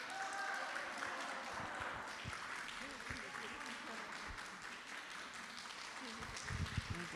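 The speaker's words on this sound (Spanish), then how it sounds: "les pido un fuerte aplauso" An audience at a Spanish-language conference applauds steadily, a dense wash of clapping held at an even level for several seconds, heard somewhat distant and faint.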